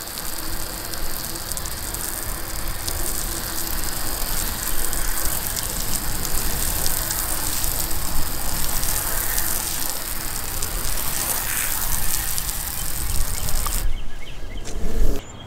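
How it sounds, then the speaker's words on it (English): A garden hose sprays water across a rooftop solar panel, a loud, steady hiss and patter that runs without a break and stops abruptly near the end. "once you've scrubbed the panel down, you can just hose it off with a garden hose."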